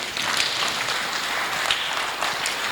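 A church congregation applauds at a Sunday service, a dense, steady crackle of many hands clapping together that holds at an even level for the whole stretch.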